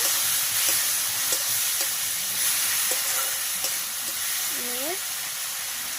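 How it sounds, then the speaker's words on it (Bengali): Bhetki fish bones stir-frying with turmeric and salt make a steady, close sizzle with occasional scraping stirs, and a faint tonal whine rises briefly near the end. "হলুদ লবণটা আপনাদের পরিমাণ মতন দেব ভালোভাবে কষে নেব"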